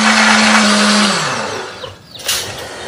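A kitchen blender grinds chili, shallot, garlic, turmeric and candlenut into a spice paste, roaring loudly and close, then winding down and stopping with a brief clatter.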